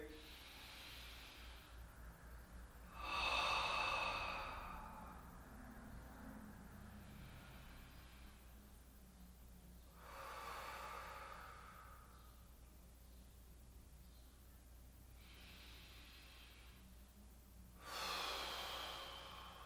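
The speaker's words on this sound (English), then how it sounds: "A few more breaths here." Slow, deep breaths during a yoga forward fold, with soft inhales and longer breathy exhales repeating every several seconds, close and quiet over faint room hiss.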